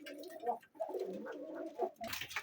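Giribaj pigeons give soft, close, throaty coos in a short series of bubbling calls, ending with a sharper rustle.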